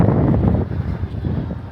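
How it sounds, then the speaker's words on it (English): Strong wind buffets the microphone on a rooftop, a loud, close, rumbling roar that gusts unevenly and never lets up. "it is very windy up here"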